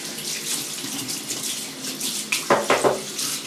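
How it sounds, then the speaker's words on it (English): Water runs from a tap for rinsing during a head shave, a close steady splash with a few louder gushes and clatters near the end. "Gonna rinse, be right back."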